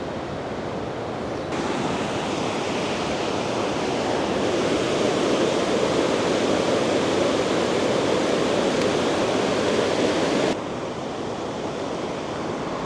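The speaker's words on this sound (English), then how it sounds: "That is an insanely fast moving river down there." A fast-flowing river rushes beneath a bridge in Norway, making a dense, loud, continuous roar of churning water that holds steady throughout with no voices.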